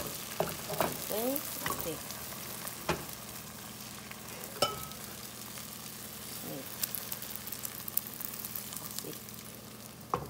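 Beaten eggs fry and get stirred in the same pot used for the vegetables while Chinese fried rice is being made. A steady close sizzle runs throughout, with repeated utensil scrapes and clinks and a brief spoken word.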